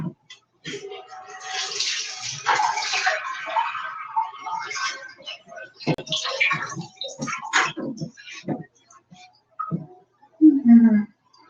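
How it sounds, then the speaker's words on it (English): Hands being washed under a running kitchen tap after handling raw turkey: intermittent splashing water with brief clatters, ending in a short louder knock. "I'll wash my hands because I have my hands on turkey."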